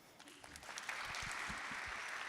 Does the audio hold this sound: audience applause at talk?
yes